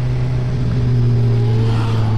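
A Ford Mustang GT350 accelerates past on the road, its engine a loud, steady growl with a deep droning tone that rises slightly as it goes by, heard alone over constant road and wind noise from a moving motorcycle.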